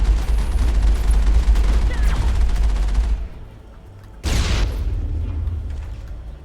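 Loud, dense sniper rifle fire and blasts in a firefight against a tank in Mass Effect, a continuous volley that drops away for a moment before one sharp heavy shot bursts out and the rumble resumes.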